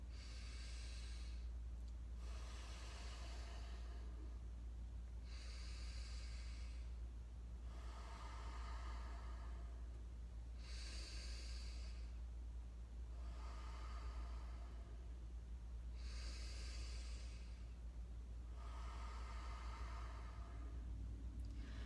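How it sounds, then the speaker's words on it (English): Slow, deep breaths, about five inhale-and-exhale cycles, each drawn-in and blown-out breath heard close and soft over a low steady hum, evenly paced during a scoliosis exercise sequence. "So I'm gonna take a 5 inhale and exhale."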